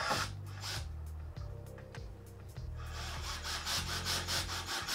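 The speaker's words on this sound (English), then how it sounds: "here I am just drilling in the pilot holes and seeing if the screws are gonna work" A drill bores pilot holes in wood for screws on a virtual pinball cabinet build, its motor whirring in repeated short bursts with a rough, rasping bite into the wood, close and fairly quiet.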